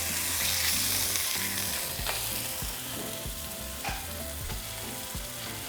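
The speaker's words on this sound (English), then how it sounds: "I'm just going to grab my tortillas and dip it into the oil" Tortillas dipped in oil fry on a hot comal over medium-high heat, a bright continuous sizzle near and loud, with a faint low hum and a few soft knocks underneath.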